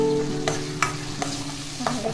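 Tomato puree sizzles in a pan of rajma masala spice base while a spoon stirs it, with soft scraping strokes knocking every fraction of a second over a low, steady frying hiss.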